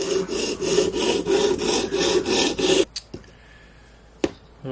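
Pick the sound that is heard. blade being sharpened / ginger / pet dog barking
blade being sharpened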